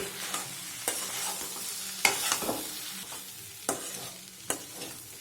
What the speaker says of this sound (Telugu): కాయకి ఎంత పడుతుందో అంత పొడి వేసుకొని కలుపుకోండి